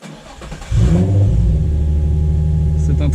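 A Nissan 350Z fitted with R8 ignition coils cranks and fires up, then settles into a loud, steady, rumbling idle with a brief rev right after it catches, all close to the car with no talking.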